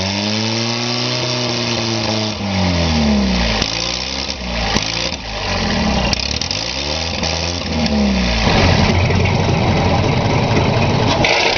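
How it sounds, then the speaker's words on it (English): A colossal 1920s 1,000-horsepower gasoline water pumping engine in Saginaw, Michigan, fed by four Zenith carburetors, runs with a loud, deep, steady roar, its pitch swooping up and down before settling into a rougher, louder throb. "a colossal 1920s water pumping engine, thunders to life with a deep, bellowing roar at Saginaw, Michigan."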